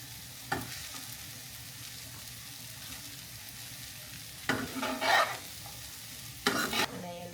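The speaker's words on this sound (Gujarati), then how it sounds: "જલ્દી જલ્દી મિક્સ કરવાનું છે." Sago (sabudana) khichdi being stirred quickly in a pan, with a few distinct scraping bursts of the spoon against the pan over a low, steady background hiss.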